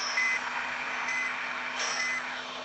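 Reversing beeps from a Hino truck hauling a load of timber in Bus Simulator Indonesia: three evenly spaced electronic beeps over a steady engine drone.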